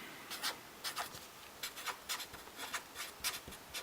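Hand writing on paper, a series of short scratchy pen strokes in an irregular rhythm, close and fairly quiet, with no voices.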